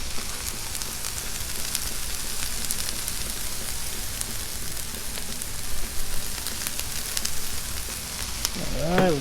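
Cajun shrimp and smoked sausage sizzle steadily on a Blackstone griddle, a dense, close crackle that continues throughout and ends with a brief scrape or stir.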